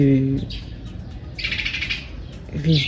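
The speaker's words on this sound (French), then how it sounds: "Aussi un oiseau que je vais vous montrer." Outdoors, a bird gives a few bright chirps in short bursts, with a louder run of calls in the middle. Between them a voice speaks in brief snatches.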